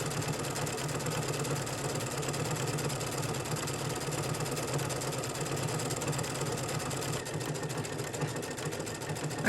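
An embroidery sewing machine with a stabilizer runs steadily through tapering stitches, a dense, continuous mechanical whir with rapid needle chatter held at an even level throughout, close and alone with no talk.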